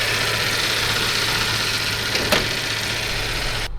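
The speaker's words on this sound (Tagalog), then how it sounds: "So maingay pa rin yung compressor kahit nalagay na ako ng langis, hindi pa rin nawala yung ingay." A Toyota FJ Cruiser's A/C compressor still whines with the engine running, even after oil was added. It forms a steady, close, continuous drone with one brief sharp click partway through.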